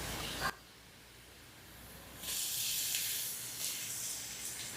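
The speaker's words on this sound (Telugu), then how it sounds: "ఇప్పుడు ఈ పచ్చిమిర్చిని స్టవ్ని లో ఫ్లేమ్లో పెట్టుకుని 1 నిమిషం పాటు ఫ్రై చేసుకుందాం." Ground green chillies fry in a pan over a low flame with a soft, close hiss. A brief burst is followed by a quieter lull, then the sizzle swells and keeps going with small surges.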